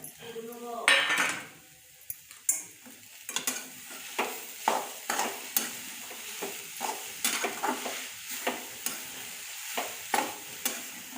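A spoon scrapes and stirs a sweet filling of grated coconut and grated jaggery in a metal pan, giving repeated close scraping strokes at an uneven rhythm with soft clinks.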